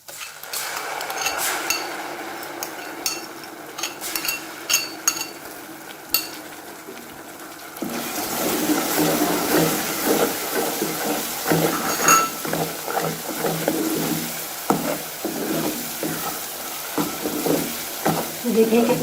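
Thick cream stirred into frying masala for egg korma, with a steady sizzle, a spoon scraping and clinking against the pan through the first part, then louder, busier sizzling and frequent stirring scrapes after the cream goes in.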